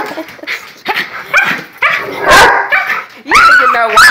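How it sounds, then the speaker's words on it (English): A dog barks and whimpers in agitated bursts after her basketball is taken away indoors, loud and close, with a person talking to calm her between the barks. "You don't even know why you're barking."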